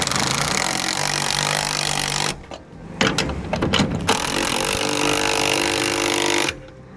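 Bolts being snugged down on a ladder rack bracket mounted on a truck bed, with steady mechanical ratcheting and tool noise running for most of the stretch, broken by a brief quieter gap of scattered clicks.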